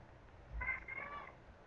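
A cat gives a single short meow, moderately close, in an otherwise quiet room.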